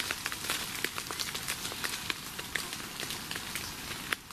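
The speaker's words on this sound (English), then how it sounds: "The rain's coming down again." Steady rain falls outdoors at night, a constant broadband hiss of drops with scattered sharper patters and taps, moderately close and without talk.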